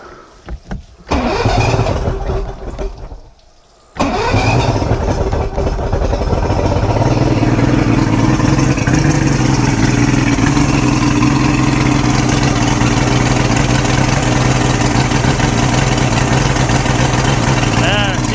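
A 1986 Mercury 90hp outboard engine cranks, catches and settles into a loud, steady running drone with some throttle applied, close by, while a person talks briefly near the start.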